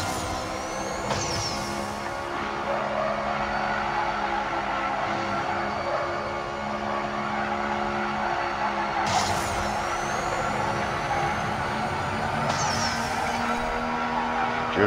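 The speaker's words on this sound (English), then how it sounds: "Drifting." A Cadillac CT5-V Blackwing drifts in the racing game Need for Speed No Limits, its engine droning steadily at high pitch, with tire squeal sweeps and shifts breaking through several times.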